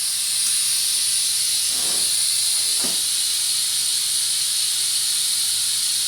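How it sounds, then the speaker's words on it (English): Air hisses from the opened valve of a plastic coolant filling hose while a car cooling system is checked for a hard-to-find leak, a steady close hiss running throughout, broken by two short gurgling sputters near the start. "Just the air that I sucked in by opening up the valve to prime this plastic filling hose"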